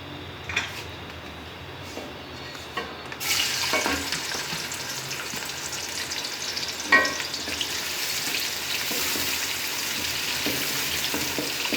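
Onions hit hot oil and a loud, steady sizzle rises and continues, with occasional stirring clinks and scrapes; no voices.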